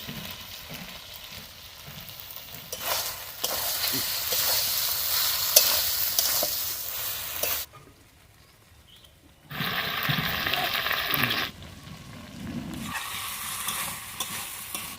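Chicken organs fry with ginger and chilli paste in a pan, sizzling loudly and steadily as they are stirred, with a brief quiet gap in the middle.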